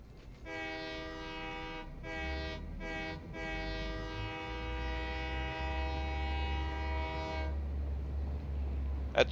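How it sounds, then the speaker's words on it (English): A train horn in the Satisfactory factory-building game blares a sustained multi-tone chord in several bursts, with brief gaps early on, over a low rumbling rail background before cutting off. "You gotta honk the horn."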